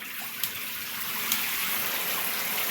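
A shower head and a hand shower spray water at the same time, giving a steady, even hiss of falling water that holds for the whole stretch, with no talk over it.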